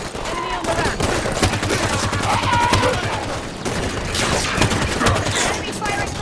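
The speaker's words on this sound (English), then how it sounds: "Enemy firing from that leg!" Rapid enemy gunfire in the Halo 5 video game, dense overlapping bursts of automatic shots rattling continuously and loudly throughout, with shouted voices mixed in.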